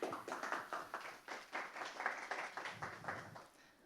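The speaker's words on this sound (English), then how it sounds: "a round of applause for them as well" Applause for panel speakers at a health data and ethical AI event: a smallish group clapping, individual claps rhythmically distinct, fairly faint and tapering off toward the end.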